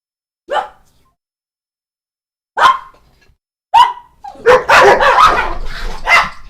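Dogs bark close by, with a few separate sharp barks and then a burst of overlapping yips and barks from more than one dog.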